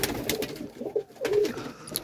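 Pigeons coo inside a loft of large racer pigeons kept for breeding, with several soft, rolling coos rising and falling at close range, no voices present.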